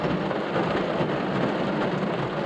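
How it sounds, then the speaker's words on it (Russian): Heavy rain downpour drums steadily on a car during an overnight carp and crucian fishing trip, a loud, dense, unbroken wash with no talk. "Вам видно, там такой пошел ливень, смотрите."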